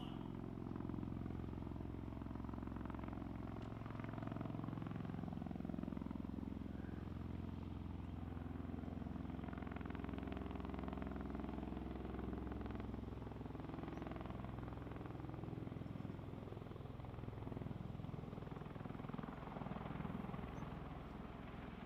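Helicopter from the Lady Ace 11 crew hovering about 300 feet up at an airshow, a steady, continuous rotor and engine drone that stays fairly constant and distant-sounding throughout, with no talk over it.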